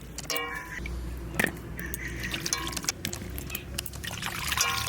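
Water pours and trickles steadily over dried hilsa fish as it is washed, with clinks and light handling noises mixed in at close range.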